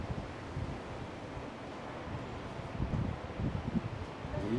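A light sea breeze blows by the sea in Sochi, a steady wind rush with the soft wash of surf and gusts swelling slightly toward the end.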